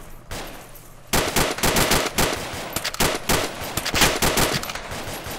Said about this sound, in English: Taking cover, I'm under fire.